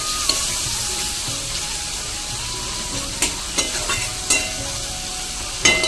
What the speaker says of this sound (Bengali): আমি তেলের উপরে টমেটোটা দিয়ে দিয়েছি